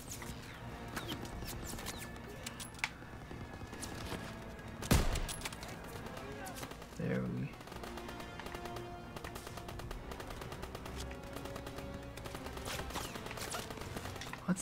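Call of Duty: WWII D-Day gunfire crackles softly and at a distance as rapid, repeated bursts through the whole stretch. A heavier single crack stands out partway through.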